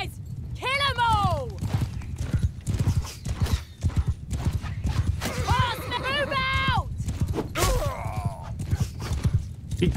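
Cavalry horses gallop through a battle in Mount & Blade 2: Bannerlord, with dense hoof clatter and repeated loud neighs and whinnies over a rumbling low roar, continuous for the whole stretch.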